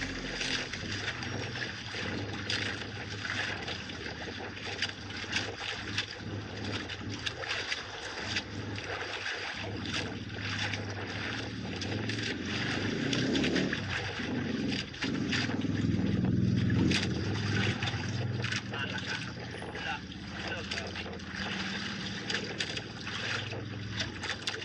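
A fishing boat engine on open sea, a continuous low drone with wind buffeting and water splashing against the hull, steady and fairly close throughout.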